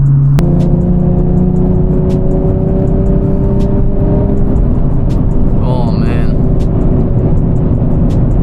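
A Nissan 370Z Nismo rumbles steadily from its exhaust while driving, a continuous low drone with shifting engine tones, heard close from inside the car with a brief spoken exclamation over it.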